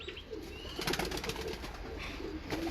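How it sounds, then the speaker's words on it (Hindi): Jaldar pigeons coo softly and repeatedly over a faint, steady background hum, with low throaty calls overlapping at a close distance. "रमीजुद्दीन भाई, इतने जालदार कबूतर हैं"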